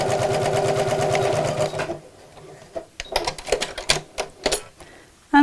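A sewing machine runs a straight seam through a fabric make-up organizer, giving a quick rhythmic stitching chatter for about two seconds, followed by scattered clicks and handling noises.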